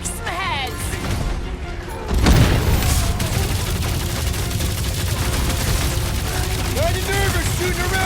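Gunfire in the Guardians of the Galaxy video game, a dense, continuous battle barrage with a heavy boom about two seconds in, mixed with game sounds and voices.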